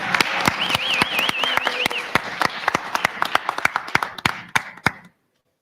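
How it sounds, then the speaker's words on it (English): A round of applause at a high school boys' varsity swim banquet, with sharp individual claps standing out over a lighter crowd clapping and a brief whistle, fading out near the end. "let's give Coach Danielle a round of applause"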